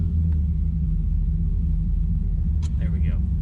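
A 1999 Pontiac Trans Am V8 idles after a warm start with a low, steady rumble close by, and a brief voice comes in near the end.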